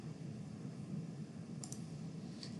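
Faint computer mouse clicks while signing in to ArcGIS Online: a quick double click, then a single click later, set against a quiet low room hum.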